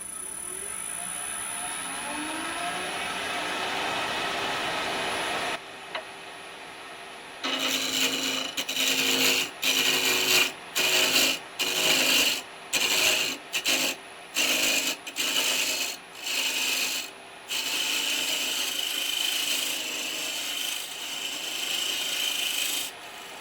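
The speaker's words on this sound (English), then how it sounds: "I'm using my spindle roughing gouge and get it down into a round shape" A spindle roughing gouge cuts a spinning wooden workpiece on a lathe, with a steady rasping hiss at first, then repeated short loud grinding passes separated by brief pauses.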